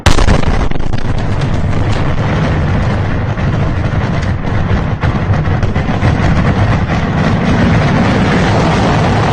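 Russian bomb strike in the Zhytomyr region of Ukraine, heard as a loud, continuous, roaring blast rumble that fills the whole stretch without letting up, with no talking over it.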